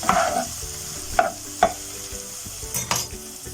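Ginger-garlic paste fries in about two tablespoons of hot oil for aloo Manchurian sauce, giving a close, steady sizzle broken by sharp scrapes and taps of a stirring spoon against the pan.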